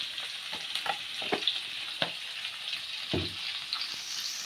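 Shredded garlic fries in a pan with a steady, close sizzle. Scattered scraping stir strokes rise over it throughout, and no one speaks.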